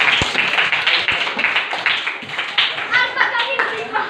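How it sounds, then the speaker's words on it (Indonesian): A small group of teachers at a training session claps in brisk, uneven bursts, close and fairly loud, with faint talk mixed in underneath. "beri tepuk tangan dulu"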